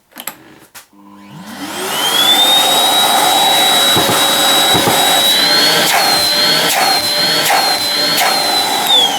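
A Bosch GAS wet/dry vacuum cleaner is switched on after a few clicks, its motor spinning up over about two seconds into a loud, steady whine and roar that holds to the end, with no talk.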